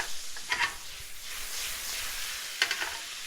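Shallots sizzle in a hot pan as vermouth is splashed in to deglaze, a close, steady frying hiss broken by a few sharp stirring scrapes, with no one speaking.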